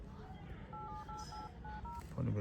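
Telephone keypad dialing tones beep in a short series of steady two-note pulses at a home, over a background of light household noise and brief talk.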